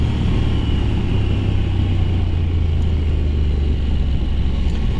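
A Honda NC750X motorcycle engine pulls steadily under load, a continuous low, loud rumble holding an even drone throughout with no voices.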